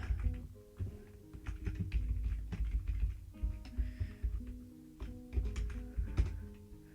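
Computer keyboard keys being typed in irregular bursts of close, crisp taps, alone with no talking, during a Dwarf Fortress play session.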